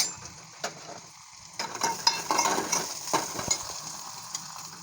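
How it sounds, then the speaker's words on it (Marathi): Chopped ginger and garlic sauté in a pan with a soft, steady sizzle, while a spoon stirs and scrapes in scattered light strokes, fairly quiet and close. "अद्रक लसूणचा कच्चेपणा जाईपर्यंत मी या ठिकाणी दोन मिनटं परतून घेणार आहे"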